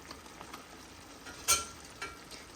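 Prawn pakoras slipped into hot chilli sauce gravy give a faint, steady sizzle, with one sharp spattering burst and a smaller crackle shortly after.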